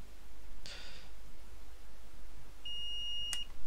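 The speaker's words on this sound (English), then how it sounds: "multimeter. You can hopefully hear that beep." A multimeter gives a continuity beep while testing a fuse on a PS4 CUH-12xx Blu-ray drive board: one steady, close electronic tone lasting under a second, with a faint click and rustle just before it.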